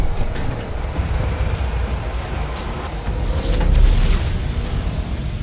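A heavy cannon blast in the Halo Wars 2 game brings down the shields, a deep rumbling boom swelling midway through a dense, continuous roar of low-end battle noise, with no voices.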